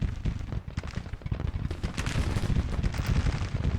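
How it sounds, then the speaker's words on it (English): Artillery and counter-battery fire in the Civil War strategy game Grand Tactician, a dense, continuous rumble of overlapping cannon booms and gunfire crackle with no speech. "He's doing counter battery fire, and he's just really doing a number on my artillery units."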